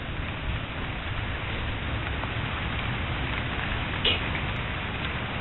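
Steady, dense rain hiss fills the whole stretch, even and unbroken, with a faint brief tick near the end.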